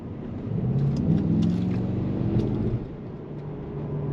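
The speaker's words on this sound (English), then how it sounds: "So we are driving now with the combustion engine and the electric engine mixed." A Mercedes-AMG GT63 S E Performance hybrid drives on a mix of combustion and electric power, its engine a low, steady rumble that swells slightly and then eases back, heard from inside the car with no talk.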